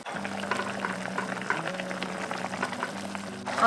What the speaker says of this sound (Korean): 이 상태에서 그냥 살 끓여주시면 됩니다